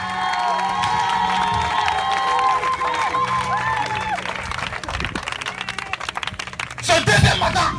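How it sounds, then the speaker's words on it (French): A church congregation stands, cheering and applauding loudly throughout, with shouts and clapping building into a strong burst near the end. "On se tient debout et on acclame Yeshua HaMashiach."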